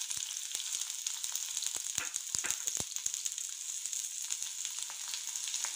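Onions frying in hot oil in a frying pan, a steady bright sizzle with scattered sharp crackles and pops running throughout, close and fairly quiet, with no voices.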